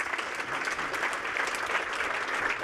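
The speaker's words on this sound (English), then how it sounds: "So with a warm round of applause," A lecture audience at a research talk gives a warm round of applause to welcome a speaker, with steady, full clapping throughout.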